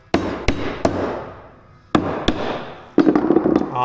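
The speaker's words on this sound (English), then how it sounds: "take my pinner and shoot that in place here, just to hold it" Pin nailer firing pins into wood while building sawhorses, three sharp cracking shots in quick succession, a pause, then two more and a final burst of closer taps, loud and close with no talking.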